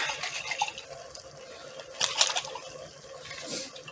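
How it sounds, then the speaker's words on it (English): Water sloshing and splashing inside a glass spaghetti sauce jar as it is shaken to rinse out leftover sauce, a busy wet rattle with bursts of louder shaking, no speech. "you gotta put you some water in there and shake her up and get all the goody out"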